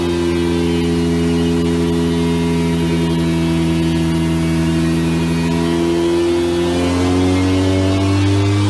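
A car engine revs hard and steadily under load, its droning pitch climbing toward the end. It is loud, close and continuous, with no talking.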